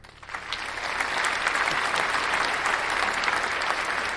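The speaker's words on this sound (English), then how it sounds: "She gets the applause." Steady applause on a podcast, building quickly from a thin start into a sustained, even wash of clapping that holds at moderate level without a break.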